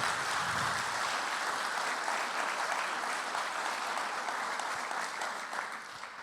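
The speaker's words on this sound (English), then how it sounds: "if you want to applaud somebody, you applaud Neil and Buzz" Dense, sustained applause from the audience at a panel of Apollo flight controllers, steady and full throughout and easing slightly toward the end, with no speech over it.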